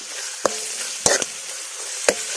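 Pancit bihon ingredients frying in a pan, a soft continuous sizzle broken by three sharp scraping clicks of a utensil stirring the mix.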